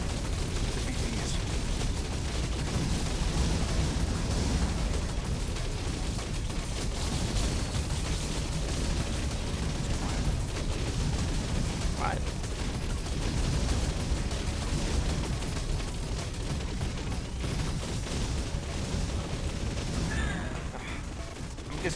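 Asteroids and satellites being blasted apart in the space shooter game Picayune Dreams, a dense, continuous barrage of explosive bursts and gunfire-like crackle over a busy electronic backdrop.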